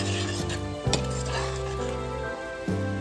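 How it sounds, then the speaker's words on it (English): A quick stir of lemon juice and chopped cilantro with paprika and garlic spices in a pan over very low heat for Lebanese spicy potatoes, with a spoon scraping and clinking against the pan over a soft sizzle. "On a very low heat, give a quick mix."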